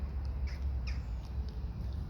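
A few faint bird squawks ring out over a low, steady outdoor rumble. The calls are brief and scattered.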